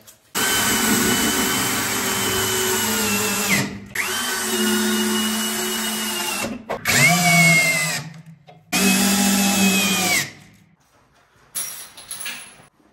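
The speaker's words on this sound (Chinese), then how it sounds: "我们把这个钻头换成套筒，对吧？ 用套筒来拧" A power drill fitted with a socket bit drives screws during cabinet installation, several loud sustained whirring runs with pitch dips as each screw tightens, separated by brief pauses, close up.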